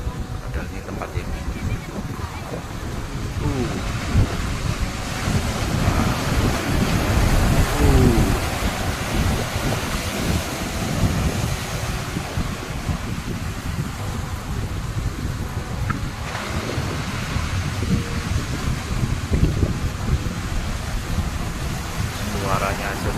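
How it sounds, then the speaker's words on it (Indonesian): Waves of the open Indian Ocean surge and crash continuously along the coast, a loud rushing roar mixed with wind buffeting the microphone, with a voice talking at times. "suaranya aja serem. Turun air laut samudra India ini laut lepas."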